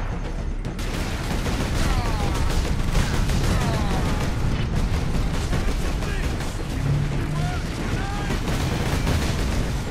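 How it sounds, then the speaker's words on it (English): Grenades exploding in the video game Warhammer 40k Space Marine, a dense run of repeated blasts and crackling gunfire-like bursts throughout, loud and busy amid game noise. "Oh, that's grenades."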